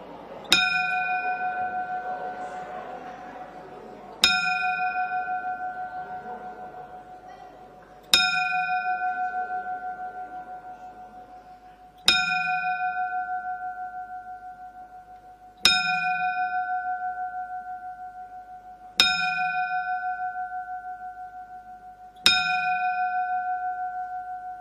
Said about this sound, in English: Could you please observe boxing's 10-bell salute?